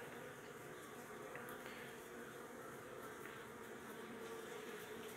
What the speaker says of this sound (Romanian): Adică e deja plin de albină.